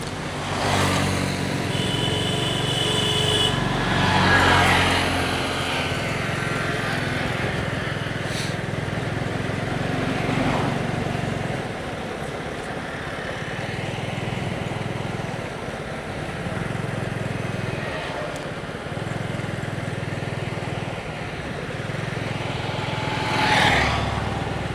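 A motorcycle ridden slowly along a village road in Beanibazar, Sylhet, Bangladesh, its engine a steady low drone that swells and eases with the throttle, with rushing wind and passing road noise throughout.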